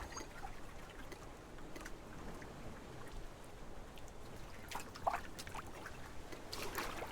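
A waterfall in the game BitCraft Online, heard while sailing past: a soft, steady rushing wash of water at moderate distance, with faint droplet-like splashes scattered through it.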